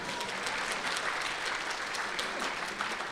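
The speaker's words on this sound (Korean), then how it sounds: "박수 한번 보내세요" An audience at a Korean CBMC convention session applauds, steady dense clapping from a large crowd that carries on evenly for a few seconds.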